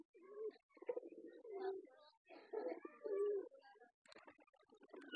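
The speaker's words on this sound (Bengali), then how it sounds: "এই যে বিটি হোমা কবুতরটা" BT homer pigeons coo up close in a series of soft, throaty, rolling calls with short pauses between them.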